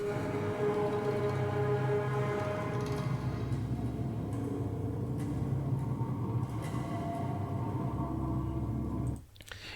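Dark, brooding music of sustained low drones and layered tonal atmospheres, steady and full throughout, cutting off abruptly just before the end.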